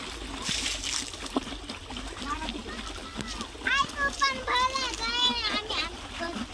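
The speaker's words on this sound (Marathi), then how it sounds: "चला मारा पटापटा पाणी." Water splashes and trickles onto a new road surface as children spray it, with irregular splatters heard close while children's voices chatter and call out over the top.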